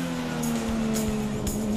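A Porsche Super Cup race car engine gives a steady, loud, close drone with a few faint thumps, heard briefly from on board with no talking and no clear rise in pitch.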